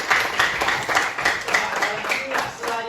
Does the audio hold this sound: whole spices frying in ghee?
no